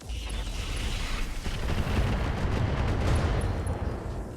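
Rocket 20 launcher salvo fired at a Merlin mech in RogueTech, a loud roaring rush of rockets and rumbling blasts building into a continuous barrage, with no talk.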